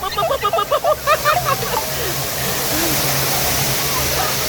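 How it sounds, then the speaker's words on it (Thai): A waterfall at a resort roars as a dense, continuous rush of falling water, loud and close, with a few seconds of people talking at the start layered over it. "เรามาถึงน้ำตกนะครับ"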